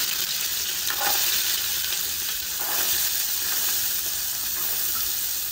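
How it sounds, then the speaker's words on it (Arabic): Onions fry in oil in a pan, a continuous close hiss and crackle holding steady throughout with a few faint clinks of stirring and no talking. "أول بحمر البصل"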